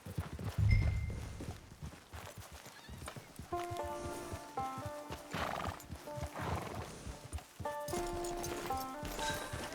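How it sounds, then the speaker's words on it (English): A horse in the Red Dead Online video game whinnies loudly, then its hooves clip-clop at a steady walking rhythm beside light musical notes. "Get your horse."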